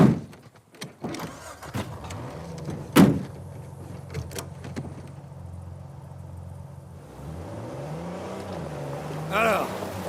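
A car in the video game Uncharted 4 starts up and pulls away, engine whine rising and settling into a steady drone, with a few thumps and clunks at the start and a brief higher rev near the end.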